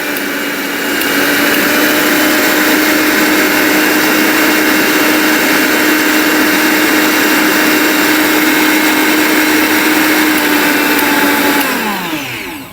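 A powerful three-jar electric blender grinds rice to fine powder, its motor whining steadily and loudly from start to finish before spinning down at the very end; no one speaks.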